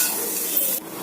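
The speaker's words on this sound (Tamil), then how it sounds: "கடுகு போடுறேன், கடலைப்பருப்பு போடுறேன்." Mustard seeds and chana dal sizzle in a pan of hot oil, a steady close hiss that carries on evenly for about a second and then drops off slightly. No one speaks over it.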